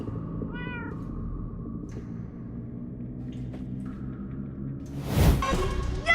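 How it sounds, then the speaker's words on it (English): Cats meow in the Minecraft: Story Mode video game, a short burst of mewing early on over a steady low game ambience, followed later by a louder whooshing swell. "That almost sounds like... cats?"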